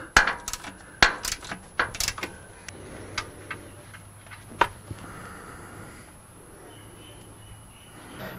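Fourteen-millimetre bolts come out around a Toyota transmission pan on a 4Runner-type truck, sharp metallic ticks and clinks of a ratchet and loose bolts in quick bursts, then quieter handling noises, fairly close.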